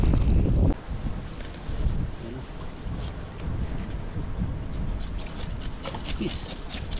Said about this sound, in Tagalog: salubong na po yung hangin